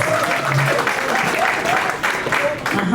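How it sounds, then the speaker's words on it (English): Convention audience applauds a judge as she is called up, a sustained, fairly loud crowd clapping with a voice speaking over it throughout. "Clap for her now."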